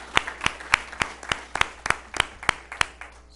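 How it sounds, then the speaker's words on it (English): Scattered claps at a mayoral candidates forum held by the League of Women Voters, roughly a dozen distinct sharp hand claps in steady succession, moderately close, too sparse to sound like a full crowd. "So how about another round of applause for all those volunteers?"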